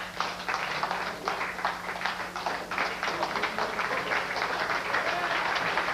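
A snooker crowd at the 1995 ICOC match between Chao Fong-Pang and Takeshi Okumura breaks into moderate, sustained applause after a safety shot, the clapping steady and slightly distant for several seconds.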